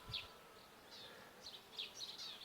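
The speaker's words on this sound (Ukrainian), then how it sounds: "І зараз бджола працює на різнотраві." Faint buzzing of honeybees drifting in and out at a distance among flowering thistles, soft intermittent hums over a quiet outdoor background.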